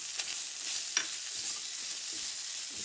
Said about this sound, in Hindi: इसमें मैं ये डाल दूँगी और इसको थोड़ा सौते करूँगी